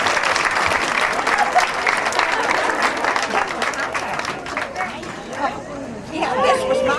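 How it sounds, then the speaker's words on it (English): An audience applauds steadily for selected seniors from the class of 2009 at a school campus closing ceremony, with crowd chatter mixed into the dense clapping throughout. "Let's give them a round of applause."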